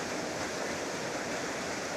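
A waterfall amid autumn foliage gives off a steady, even rush of falling water, a continuous broadband roar with no pauses and no voices.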